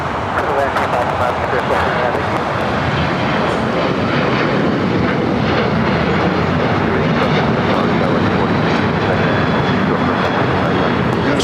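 A plane taking off on runway 25 right at Los Angeles airport (LAX), a loud, steady engine roar that fills the whole stretch without easing.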